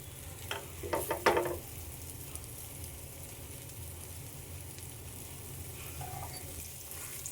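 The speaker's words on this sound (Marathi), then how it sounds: "हा मसाला त्या केळ्यांना चांगला खालीवर चमच्याने परतून घेणार आहोत" Raw banana slices tossed with masala in a pan, a spoon scraping and clattering in a short burst near the start, then a steady low sizzle continuing quietly on its own.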